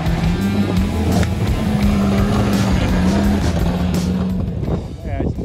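Cadillac CTS engine bogging, a steady loud droning rumble with wheel and road noise around it, fading slightly near the end.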